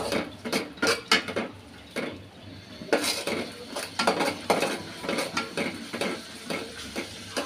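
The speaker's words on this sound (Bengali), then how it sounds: "এবার একটু নাড়ি দিব।" A spoon scraping and clinking against a pan while turmeric, salt and spices for sweet pumpkin fry are stirred, a quick irregular run of close metallic strokes with a short lull midway.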